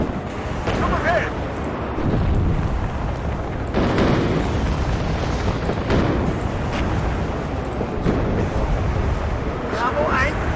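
Rumbling artillery explosions in the WARNO video game, with continuous booming bursts rolling through a dense, noisy battlefield mix for the whole stretch, loud and sustained with several stronger impacts.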